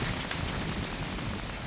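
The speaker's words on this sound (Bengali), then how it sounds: "আর এত বৃষ্টি, তার মধ্যেও আটকায় থাকার কোনো ইয়ে নাই।" Steady monsoon rain pours down in the Sundarbans mangrove forest, a dense, even hiss of drops on water and leaves with no breaks, moderately loud and with no voices.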